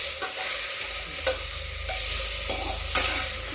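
Shredded cabbage with potato and moong dal stir-fries in a little oil over a low flame for a Lucknowi-style dish, giving a steady close sizzle broken by several scraping stirs of the spatula; no one speaks.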